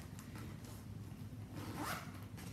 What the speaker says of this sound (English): The next pocket has double zip on the top.